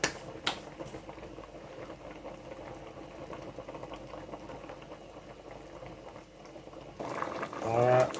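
Coconut milk simmers in a rundown with saltfish and green beans, giving a faint, continuous bubbling boil. A voice speaks briefly near the end.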